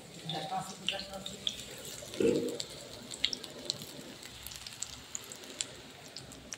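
Curry leaves and coriander leaves fry in hot oil with a steady crackling sizzle, a louder spitting burst partway through and sharp pops throughout, while a voice is briefly heard near the start.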